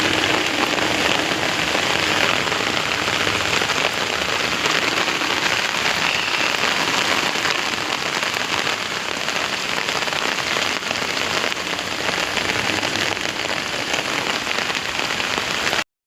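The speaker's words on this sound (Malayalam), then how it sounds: "മേഖലയിൽ കനത്ത മഴ തുടരുകയാണ്." Heavy monsoon rain in Kerala, a dense, loud, continuous patter on surfaces lasting throughout without pause or voices.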